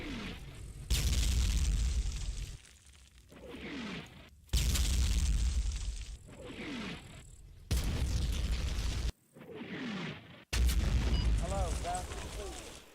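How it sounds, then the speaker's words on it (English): Three-inch mortar rounds striking German positions near a winery in Combat Mission Fortress Italy, several heavy booming blasts at intervals with lingering rumble, and a voice talking between the impacts. "The FO calls in a 3-inch mortar strike on the German positions near the winery"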